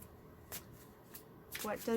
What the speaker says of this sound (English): I will shuffle the cards now